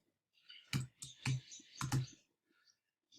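Typing on a computer keyboard: a handful of crisp close-up key clicks in short uneven clusters, then a few faint taps trailing off into quiet.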